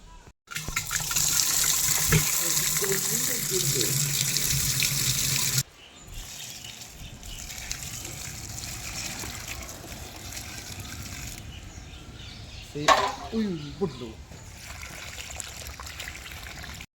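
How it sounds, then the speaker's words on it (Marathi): Water poured from a tap or jug into a kalshi water pot outdoors near a farm, a loud steady gush for about six seconds that stops abruptly, followed by quieter background noise and a brief splash or clatter. "कळशीत पाणी भरून घेऊया आणि त्यात घालूया."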